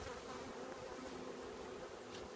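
Honey bees hum around an open beehive during a Pennsylvania hive inspection, a dense, steady buzzing that fills the air close by without pause and with no voices.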